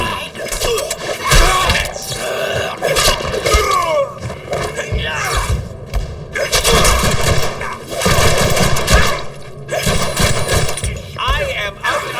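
Rapid bursts of gunfire from a Deadpool game on PS3, with machine-gun rattles and shots stacking into loud sustained volleys across the whole stretch, broken by brief lulls, alongside game sound effects and clipped voices.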